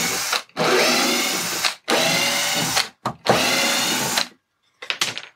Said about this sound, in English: so it's easier to cut and drill these two holes for the two plugs